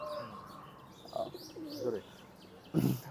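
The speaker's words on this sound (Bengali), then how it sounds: "এটা হচ্ছে ফিরোজপুরি কবুতর" A Ferozpuri pigeon gives a few soft, separate coos and chirps close by against a quiet background, ending with a short louder burst.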